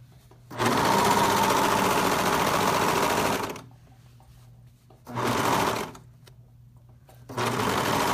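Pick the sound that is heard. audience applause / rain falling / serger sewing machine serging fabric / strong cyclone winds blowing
serger sewing machine serging fabric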